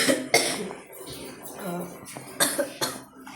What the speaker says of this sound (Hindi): पहले मैंने सोचा था कि नकली खांसी करूँगा, ठीक है, असली आ गई, फिर असली आ गई।